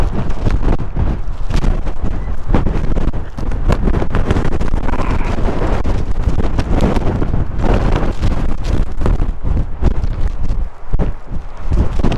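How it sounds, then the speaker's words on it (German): Strong wind buffets the microphone at the seaside in Zoutelande, a loud continuous roar and rumble with gusty bursts throughout, no voices. "Ja, doch wohl etwas windig hier."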